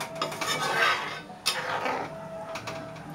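A metal lid is set onto a cooking pot of raw banana sabzi, with a few clanking knocks of metal on metal, close and fairly quiet.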